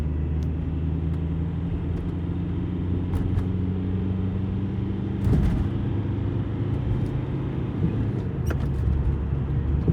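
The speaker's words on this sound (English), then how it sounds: "So first gear to the floor, second gear to the floor," A VW TDI diesel car, suspected of a mass airflow fault, pulls hard through first and second gear at full throttle, giving a steady loud low engine drone with a brief surge around a gear change.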